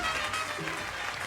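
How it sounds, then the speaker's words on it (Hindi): Audience applause at a junior dance competition show, a dense, steady wash of clapping that holds at an even level for just over a second with no voices on top. "जोरदार तालियां।"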